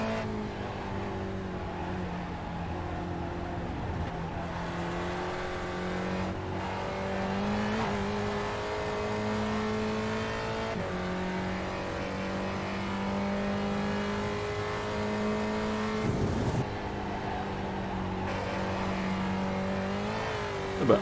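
Race car engine in iRacing at Lime Rock, a continuous droning whine that rises and falls through gear changes and braking zones, with brief dips and surges over about twenty seconds, alone without talk.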